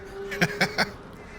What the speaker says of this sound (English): the birds to the rescue